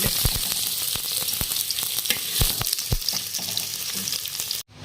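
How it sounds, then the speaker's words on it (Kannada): Paneer shallow-fries in oil to a light golden brown, a loud continuous sizzle peppered with sharp spatters and pops before cutting off abruptly at the end. "ಪನ್ನೀರ್ ಆ ಥರ ಫ್ರೈ ಮಾಡ್ಕೊಳ್ಳೋಣ್ರಿ"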